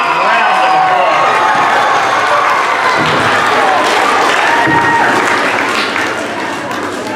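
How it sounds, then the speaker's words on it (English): Loud applause from a school assembly audience for the second grade teachers, dense clapping mixed with cheers and children's shouts, sustained throughout before easing near the end. "Could you give them a big round of applause?"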